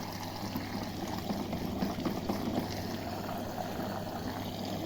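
A washing machine churns through its final rinse cycle, with continuous sloshing water and a low steady motor hum, constant in level and fairly quiet, with no speech.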